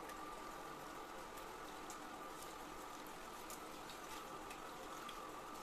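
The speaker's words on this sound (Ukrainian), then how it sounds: "Невеликий струмінь води." A small, steady stream of running water wetting hair during hair washing, continuous and fairly quiet, with faint splashing and no voices.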